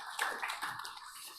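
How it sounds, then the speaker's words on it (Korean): Congregation applause at a Korean church's Sunday daytime worship service: a short, dense patter of many hands clapping together, fairly close and steady, with no voices over it. "하나님께 영광에 박수를 올려드리겠습니다"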